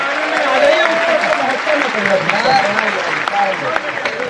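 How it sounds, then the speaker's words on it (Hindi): Audience at a Hindi comic poetry event breaks into steady, dense clapping that fills the hall, with a voice speaking over the crowd noise. "जोरदार ताली बजाएगा"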